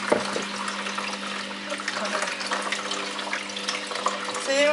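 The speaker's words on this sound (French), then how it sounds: "je vais essayer d'ouvrir mon petit sachet et remettre donc de l'eau à l'intérieur" Water runs steadily from a tap into a small pouch being refilled, a continuous close splashing stream with a faint rising fill tone near the end.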